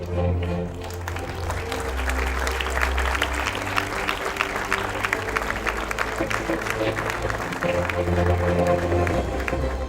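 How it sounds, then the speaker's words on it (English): Applause from an audience at a university faculty colours awards ceremony, greeting the men's volleyball team as first-place tournament winners; steady, dense clapping continues throughout over a low background hum. "Please give a big round of applause to the men's volleyball team"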